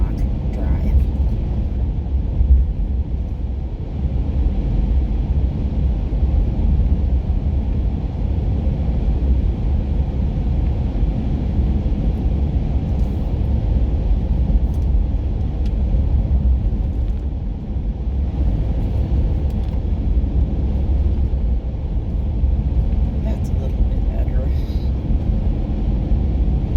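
A Chevrolet Suburban cruises along Rimrock Drive, a continuous low road rumble and engine drone from inside the cabin, with a voice talking over it throughout.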